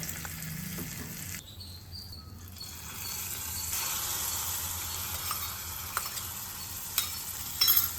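Hot oil tempering with chili and curry leaves is poured into pineapple pulissery, a soft crackling sizzle that settles into a steady low fizz, with a few sharper pops near the end.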